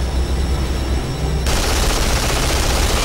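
Rapid gunfire in Duke Nukem Forever sounds as a dense, harsh roar, loud and continuous, growing even fuller partway through.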